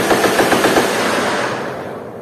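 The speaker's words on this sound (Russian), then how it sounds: "Там сейчас происходит стрельба." Rapid bursts of gunfire at a shooting range near the Cu Chi tunnels crackle in quick succession, loud and sustained, the shots blurring into a continuous rattling roar that slowly fades.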